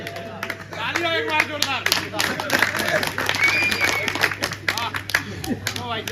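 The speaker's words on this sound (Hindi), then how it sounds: "तालियां दो भाई साहब" Audience at a Hindi comedy poetry gathering clapping for a comic poet, a steady round of moderately close applause with people talking over it.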